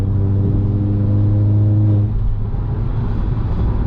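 A VW Jetta 2.0 TSI accelerates with a loud, close, droning exhaust tone that holds steady, then drops into a rougher rumble as the revs fall off, with no talking.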